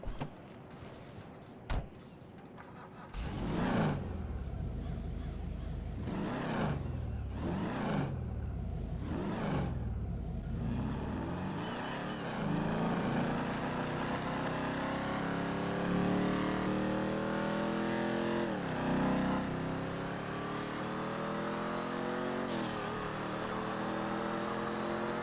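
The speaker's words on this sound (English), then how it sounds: "half throttle on this car is louder than full throttle" A car engine in GTA Online cruising at half throttle, a loud, steady drone with rising and falling pitch sweeps as it shifts; a few sharp revving bursts come first, then a sustained close engine note with no talking.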